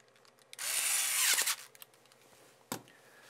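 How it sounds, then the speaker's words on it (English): An electric screwdriver tightens a screw into a camera mount in a single close whirring burst of about a second, followed by faint handling clicks and one short sharp knock. "Place one of them in the holes and tighten it with the electric screwdriver."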